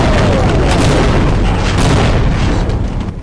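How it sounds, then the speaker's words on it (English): Heavy rumbling booms of bombing in the game Half-Life Uplink, a continuous loud low roar of explosions that fades slightly at the end. "There's some serious bombing going over there."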